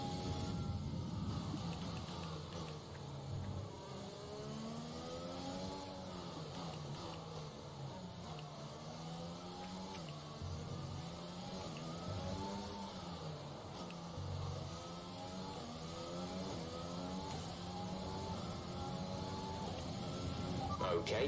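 An F1 car engine in the racing game F1 2020 being short shifted for fuel management, its whine climbing and dropping in repeated gear changes under a voice.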